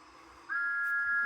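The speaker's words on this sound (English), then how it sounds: "Thomas gave one sad toot of his whistle and slowly pulled away." A steam engine whistle, Thomas the Tank Engine, gives one steady toot that begins partway through and holds to the end, fairly faint over a quiet background.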